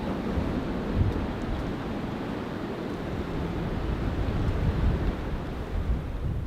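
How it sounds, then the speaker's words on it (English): Strong blizzard wind buffets a vehicle during a winter snow-camping trip, a steady, loud broadband roar with low rumbling gusts that swell and ease throughout, no voices present. "It is so windy."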